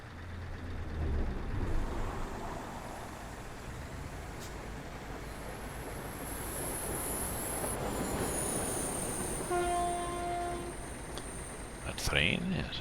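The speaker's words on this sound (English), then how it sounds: "A train? Yes, a train." Train passing in the truck-driving game Euro Truck Simulator 2, a rumbling rail roar with steady wheel noise, a brief tonal horn-like hoot and a high squeal near the end.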